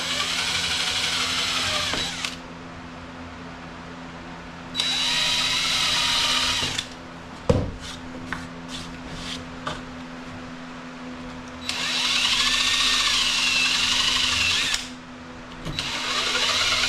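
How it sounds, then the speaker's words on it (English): A power drill bores pre-drilled holes in very dry, brittle cedar, whining in three long high-pitched runs separated by quieter pauses, with a sharp knock and a few light ticks between bursts. "sometimes you're better off to pre-drill your holes"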